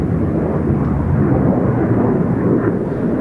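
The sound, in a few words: Harrier jet fighter climbing during air show display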